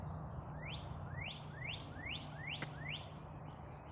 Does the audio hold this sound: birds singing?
yes